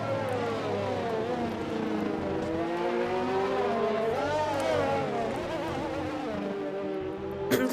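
F1 cars racing in the video game F1 2020, a McLaren chasing a Renault, with high whining engines layered in a steady buzz that rises and falls through gear shifts, continuous and fairly loud.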